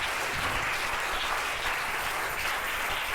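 A church congregation claps in dense, sustained applause, a steady wash of many hands close and even throughout.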